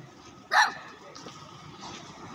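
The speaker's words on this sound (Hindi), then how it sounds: "निकू नो बेबी इसको कैसे भौंक रहा है" Single sharp playful bark from a dog, likely an Australian Kelpie, greeting another dog on a morning walk outdoors, one brief loud burst over faint background talk and ambient noise.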